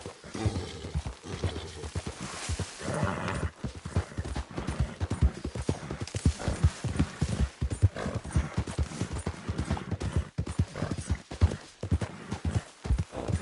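Horse hooves pound in a steady galloping clip-clop through the whole stretch in the video game Red Dead Redemption 2, with a brief whinny partway through and a rider's low voice urging the horse on.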